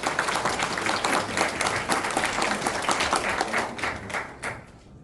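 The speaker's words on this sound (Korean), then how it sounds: "힘찬 박수로 맞아주시기 바랍니다." An audience at a civic forum applauds as a district mayor is welcomed to the podium, dense sustained clapping from many hands that tapers off near the end.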